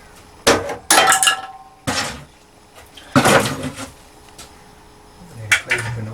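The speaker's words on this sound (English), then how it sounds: "I'm going to take the clamps off and see if it's still there" Metal clamps being loosened and removed from a glued wooden block in a home workshop, giving several sharp knocks and clattering bursts with quiet gaps between them, close and fairly loud.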